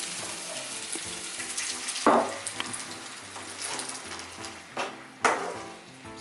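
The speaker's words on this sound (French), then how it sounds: "Et on va mettre un peu d'eau." Water is poured into a pan of curry-powder-seasoned Asian food as it cooks, a running, splashing flow with a couple of sharper bursts over a low simmer.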